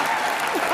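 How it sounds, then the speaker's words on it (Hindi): Studio audience applause on the comedy talk show Comedy Nights With Kapil, a dense burst of clapping from a crowd, very brief and loud. "एक बार जोरदार तालियां हमारी इंडस्ट्री के most popular producer director mister Karan Johar के लिए।"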